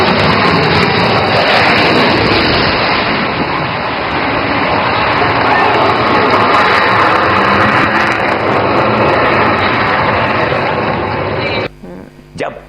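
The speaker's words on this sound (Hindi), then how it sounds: "किस तरह से भारतीय वायुसेना के लड़ाकू विमान गरज रहे हैं।" Indian Air Force fighter jets roar overhead in a loud, sustained, broadband engine rumble for about eleven seconds. It cuts off abruptly near the end.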